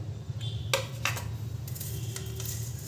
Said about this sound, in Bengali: একটু নেড়ে নিয়ে ভেজে নেব।